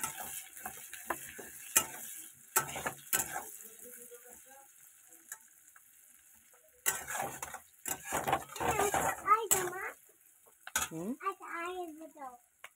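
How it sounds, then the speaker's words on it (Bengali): Onions fry lightly in a pan with soft crackling and scattered clinks and scrapes of stirring, joined later by voices of an adult and someone talking nearby. "পেঁয়াজগুলো দিয়ে হালকা করে ভাজবো।"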